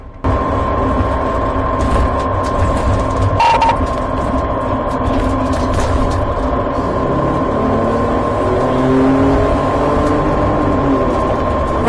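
A stolen car with a suspected impaired driver flees police and accelerates hard, giving a steady, loud roar of engine and road noise throughout, with no voices.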